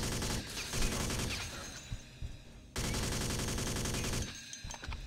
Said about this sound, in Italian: Sparano!